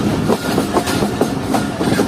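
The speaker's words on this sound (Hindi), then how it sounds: "हमारी ट्रेन जब इस स्टेशन को स्किप करेगी" Jaffer Express passenger train rolling through Golra Sharif Junction station without stopping, with a steady rumble of wheels and repeated clickety-clack beats on the rail joints, close and continuous.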